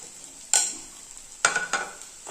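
Turkey berries (sundakkai) being sautéed in masala in a pan for sundakkai kulambu, heard as a few sharp scraping stirs over a soft, steady sizzle.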